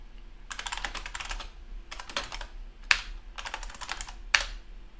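Computer keyboard typing of DOS commands, quick bursts of key clicks in several rhythmic runs with short pauses and a couple of sharper key strikes, close and fairly quiet, with no speech.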